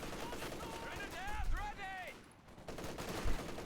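Rapid bursts of gunfire from target firing in a strategy game, steady crackling volleys under a commentator's excited voice.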